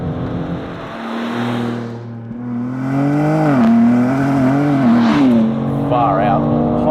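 A 2023 BMW M4 Competition with titanium exhaust accelerates on a track, its engine note climbing in pitch through the revs with a brief dip and rise as it shifts, loud and close, with a voice speaking over it.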